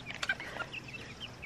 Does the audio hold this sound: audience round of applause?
no